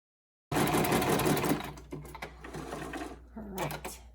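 A sewing machine running gathering stitches, starting abruptly with a fast steady whir, then continuing in shorter uneven bursts of stitching, close and clear.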